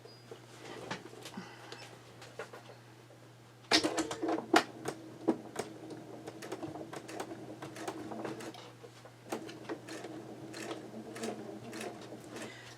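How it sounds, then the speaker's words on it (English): A home sewing machine stitches a Fresh Diamond quilt in short bursts, its motor whirring at moderate level under a steady low hum, with clicks and pauses between runs of stitching. "So I'm going to sew this really quickly here."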